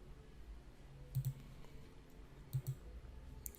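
A computer mouse clicks softly while lab field data is copied and pasted. Two quick double clicks come about a second and a half apart, faint and close, against a quiet room hum.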